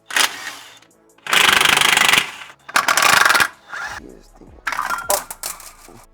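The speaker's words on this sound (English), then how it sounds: "remove this clutch with a 12 millimeter. I'm using an impact gun, just easier for me" An impact gun loosens the 12 mm clutch bolts on a 1986 Toyota Corolla GTS, firing in several loud, rattling bursts of hammering that stop and start, with quieter handling noises between them.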